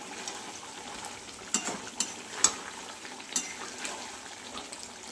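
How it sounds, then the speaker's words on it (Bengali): Chicken kosha being stir-fried in a pan makes a soft sizzle under several sharp spatula clacks and scrapes against the metal, irregular and close, with no voices. "সুন্দর করে কষিয়ে নেব আমি, বেশ লাল লাল করে কষিয়ে নেব।"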